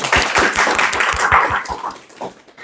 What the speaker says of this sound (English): Clapping for her, please.